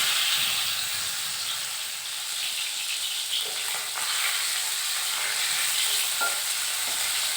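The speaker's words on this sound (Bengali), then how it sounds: "মাছগুলোকে ভালো করে ভাজা হয়ে গেছে" Tilapia fish fry in hot oil in a wok, giving a steady, loud, bright sizzle and hiss that carries on evenly throughout with occasional faint stirring clinks and no talking.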